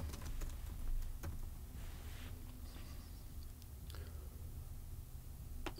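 Light, irregular clicks of a computer keyboard as a name is typed into wireless systems management software, faint and close over a low steady room hum, no voices.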